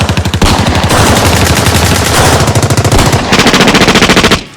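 Sustained rapid machine gun fire, loud and close, with dense overlapping bursts running almost continuously and a brief pause near the end.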